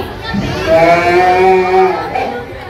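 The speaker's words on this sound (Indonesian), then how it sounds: "kok ada sapi di sini?" A cow moos once in a long, drawn-out call that rises and holds steady before fading, loud and close, with faint voices in the background.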